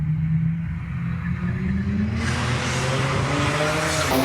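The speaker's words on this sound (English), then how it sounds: "Let's do some skids." A car skids at Monza, its engine droning and rising in pitch while a tire squeal swells in about halfway through, loud and close.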